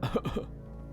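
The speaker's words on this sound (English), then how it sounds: "coughed into the mic anyway" A single person coughs hard into a close microphone, several harsh bursts packed into half a second, then a quiet room tone.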